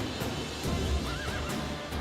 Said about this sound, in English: Horse, get out of the way.